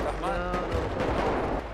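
A single gunshot in a GTA 5 roleplay video game, a short dull burst heard through constant game noise and room hum, fairly distant and not crisp.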